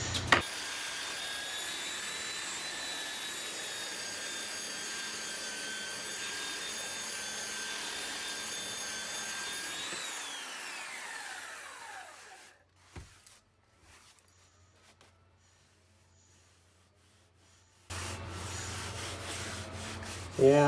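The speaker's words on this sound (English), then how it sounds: "I've got the sander at a bit of an angle, and this is to bridge between the boards and get those highs" Belt sander working soft exterior wood flooring, a loud steady whine and grinding rub for about ten seconds that spins down and stops, then near silence, then a short burst of sanding again.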